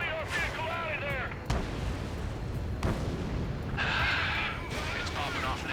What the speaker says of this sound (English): Intercept! Fire the AA!